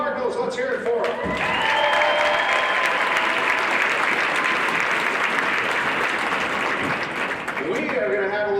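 A large audience at a St. Louis Cardinals Caravan fan event applauds the team, loud sustained clapping with some cheering that starts after a second and fills the clip, tapering near the end.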